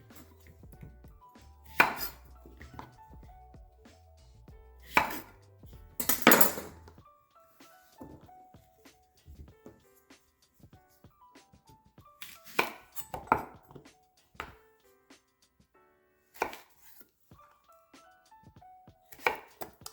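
A knife chops zucchini into chunks on a board, landing in sharp, irregular thuds and clacks, some in quick clusters and others spaced apart, with faint clinks of dishes between them.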